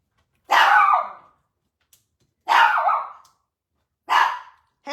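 Dog barking in her pen, three loud close single barks spaced about two seconds apart with silence between, the last one cut short.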